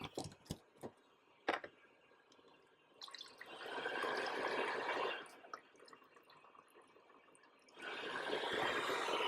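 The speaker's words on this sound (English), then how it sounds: "let me show you how you fill this water chamber." Water pours into the chamber of a heated humidifier used with a home ventilator, a steady splashing trickle in two sustained runs after a few brief drips and clicks, close by with no talking.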